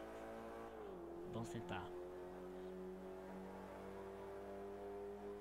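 Race car engine in Forza 5 at the Le Mans circuit, a steady sustained drone holding pitch as it builds speed, with a brief burst of noise early on and someone speaking briefly over it.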